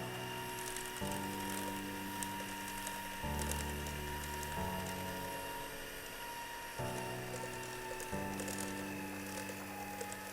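An electric mixer beats cake batter after wheat flour is added: a steady whirring motor hum whose pitch shifts in distinct steps as the speed changes, with faint rattling against the bowl throughout.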